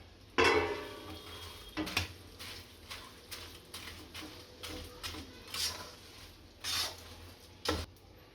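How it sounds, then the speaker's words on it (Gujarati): Spoon stirring edible gum into adadiya pak mixture in a pot, soft close scraping and clinking strokes in an irregular rhythm, with one louder knock near the start. "ગુંદરને ભેળવી નાખીશું."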